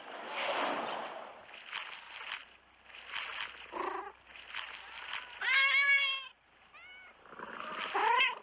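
A cat in a Wizarding World video game meows several times, drawn-out and plaintive, with a higher wavering cry near the end; the calls sound close and fairly loud.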